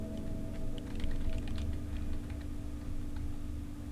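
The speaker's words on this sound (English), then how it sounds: "So I tried typing hello and it typed have." Computer keyboard typing during a typing game, a steady run of soft clicks over a constant low hum, fairly close and moderate in level with no talk.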